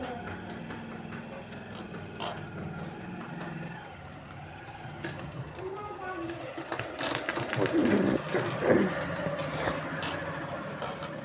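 A sewing machine running in bursts while stitching fabric pieces of palazzo pants, its mechanical whir rising and falling, with a voice talking over it.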